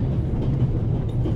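A train carriage rattling steadily along the rails in the video game Pathologic, a continuous low rumble with faint rhythmic clatter and no talking.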